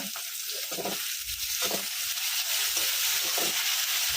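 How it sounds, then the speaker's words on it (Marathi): Onion and tomatoes frying in hot oil in a pan, a steady close sizzle with a few soft stirring scrapes, and no talking. "आता आपण याच्यातनं टमाटे टाकून घेऊ"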